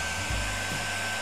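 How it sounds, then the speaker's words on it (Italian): Ordinary hair dryer blowing a jet of hot air over leather motorcycle boots treated with seal grease: a steady, loud, close whooshing roar with a constant motor whine, no voices. "basta semplicemente prendere un phon comunissimo e con un getto d'aria calda andare"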